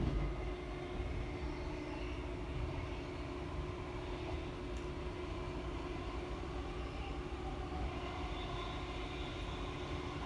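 Continuous low rumble and steady hum of a suburban passenger train arriving at Tennyson Station, heard from inside, running evenly and fairly quietly for the whole stretch with no talking.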